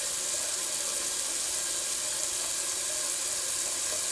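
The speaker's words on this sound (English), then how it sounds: "Little cold water rinse." Cold tap water runs steadily into a bathroom sink for a rinse after a wet shave, a constant hissing splash that stays even throughout with no talking.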